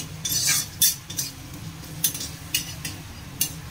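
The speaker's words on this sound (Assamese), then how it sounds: "আৰু এইখিনি এতিয়া ভালদৰে ভাজি থাকিব লাগিব" Chopped onions fry in a pan with bay leaves while a spoon stirs, giving repeated metallic scrapes and clinks over a low steady sizzle, close up and without speech.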